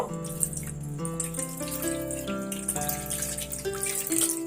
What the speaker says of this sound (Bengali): কড়াতে আমি পরিমাণ মতন পানি অ্যাড করব